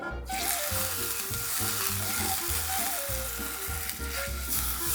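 Food sizzles and fries loudly in a hot pan right after being flipped, a dense continuous crackle with faint stirring, no voices.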